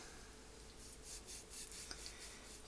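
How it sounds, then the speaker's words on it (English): A knife trims a thin layer of fat off corned beef with quiet, repeated rasping strokes, close and faint, with no voices. "I'm just going to trim off this fat"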